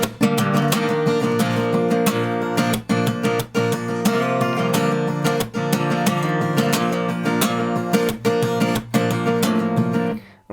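An acoustic guitar is strummed in a steady rhythm with sharp percussive taps and muted hits, blending a drum-like pulse with ringing chords, played alone and close with brief choked gaps.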